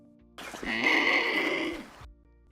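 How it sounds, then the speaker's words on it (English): Andean condor, the world's largest flying bird, giving a single rasping, hissing call of about one and a half seconds, fairly loud and close, with no other sounds around it. "Andean Condor."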